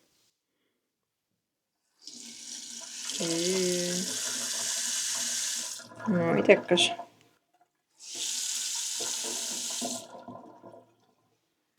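Water gushes from a newly installed bathroom sink faucet in two steady bursts of a few seconds each, close and fairly loud, with a short pause between them. A voice speaks briefly over the first burst and in the gap.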